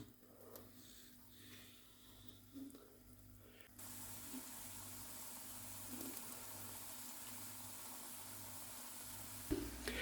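Potato and cheese balls frying in hot oil, a faint steady sizzle that steps up to a louder continuous crackling hiss partway through, with a few small clinks.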